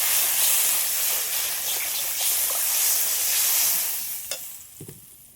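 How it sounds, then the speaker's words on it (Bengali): Water hits a frying paste of ground mustard and black cumin for a rohu fish curry, giving a loud steamy hiss and sizzle that gradually fades, with a few faint clinks near the end. "এবার জল দিয়ে দেবো।"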